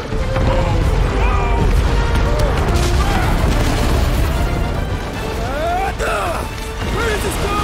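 Explosions of set charges in the video game Guardians of the Galaxy: loud, dense blasts and crashing debris rumble continuously with clanking mechanisms, while voices shout over the din.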